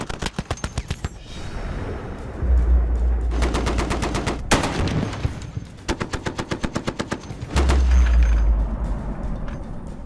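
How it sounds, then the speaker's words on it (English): An M2 heavy machine gun fires in several rapid bursts, each a sharp, loud staccato string of shots separated by short pauses, with a few heavy booms mixed in. "This is the M2 heavy machine gun"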